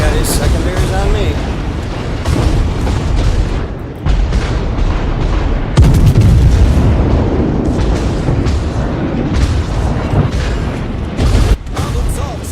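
Secondary guns of the battleship Massachusetts fire in World of Warships, repeated heavy booms and blasts rolling continuously through a dense, loud naval battle soundscape.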